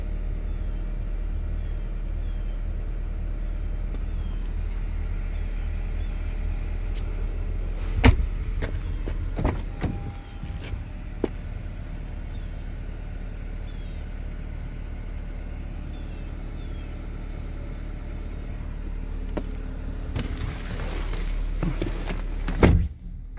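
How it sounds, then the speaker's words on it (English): 2018 Honda Civic idling on remote start, a steady low engine hum running close throughout, broken by a few sharp door and interior clunks and clicks near the middle and end. "So it's on remote start right now"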